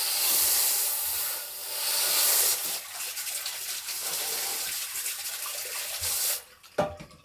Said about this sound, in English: We're going to fill the water tanks